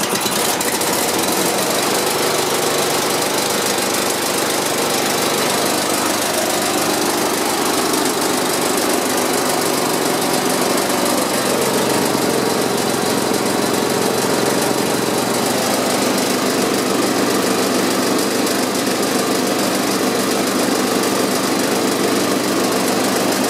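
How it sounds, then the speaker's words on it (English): A 13 hp Ingersoll Rand twin-cylinder air compressor runs steadily and loudly, its dense engine-driven chugging and knocking continuous throughout with no voices. "Also got a 13 horsepower Ingersoll Rand twin cylinder compressor."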